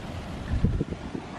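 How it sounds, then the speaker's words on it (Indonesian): Waves surge and crash against rocks on the coast at Kebumen, Indonesia, in a few heavy low rumbling bursts against a steady wash of wind noise, close to the microphone. "dihantam ombak-ombak seperti ini"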